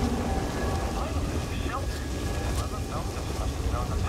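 Steady storm rain with low rumbling thunder in the Jedi: Survivor video game, a dense continuous wash at close range with a few brief tonal game effects over it.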